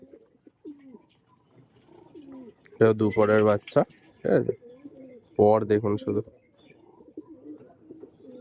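Active pigeons coo in bursts of rolling, throaty calls, close and fairly loud, with someone talking softly between them.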